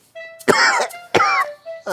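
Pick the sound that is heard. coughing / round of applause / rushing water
coughing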